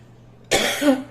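A single sudden cough up close, sharp at the onset and trailing into a brief throaty rasp.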